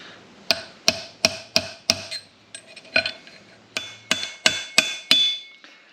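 Hammer taps a bearing's inner race into a Holden VR Commodore tail shaft: about a dozen sharp metallic strikes in uneven rhythm, close and ringing, each hit slightly more solid as the race bottoms out.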